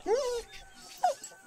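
A dog whimpers twice in the Yaga video game, with a drawn-out whine followed by a shorter yelp, fairly close and soft over quiet background.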